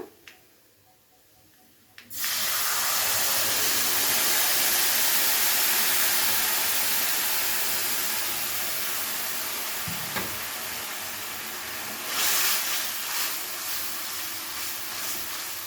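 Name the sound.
tamarind water added to frying garlic, sizzling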